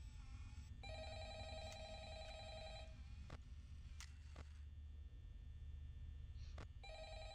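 An old-fashioned telephone rings in Five Nights at Freddy's, several repeated bell bursts separated by short gaps over a low hum, with a few sharp clicks in between.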